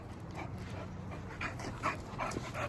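American Bully dogs pant close by in quick, steady huffs with a faint whimpering edge, alone with no talking.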